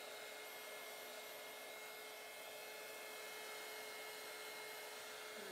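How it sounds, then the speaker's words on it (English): A heat gun blows across a blue and white resin glitter coaster, giving a steady, even airy whir that is fairly quiet and runs unbroken with no talking. "When I use my heat gun again to kind of get the middle part to kind of flow a little bit more better."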